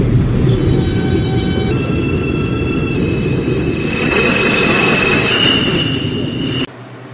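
A New York City subway train rumbles steadily, loud and close, with thin metallic squeals from the wheels riding above the roar before it cuts off abruptly.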